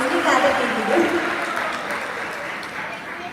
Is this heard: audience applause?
yes